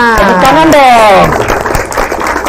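A crowd claps together at a gathering in the Al-Ikhlas mosque in Kampung Kelelet; the dense, steady patter follows a brief stretch of voices and fills the rest of the moment at close range.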